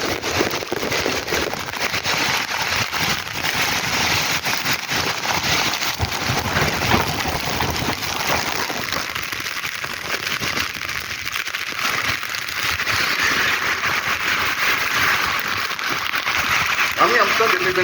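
Heavy rainfall with gusty wind and thunderstorms over Kalyani, a dense, continuous roar of rain and wind that stays loud and steady throughout, with a slight rise near the end.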